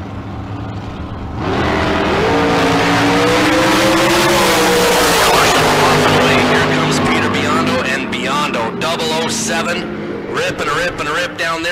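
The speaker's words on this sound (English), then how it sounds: "The Mullis Dragster" A dragster at a Tucson Dragway bracket race launches and roars down the strip, loud and sustained, with a commentator talking over the engine noise throughout.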